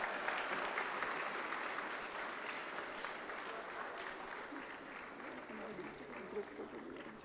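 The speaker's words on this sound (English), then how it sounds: "please give a big round of applause" Applause fills the hall at a college foundation day and convocation as a trophy is received, sustained moderate clapping from a large crowd, fairly distant, with a voice faintly underneath.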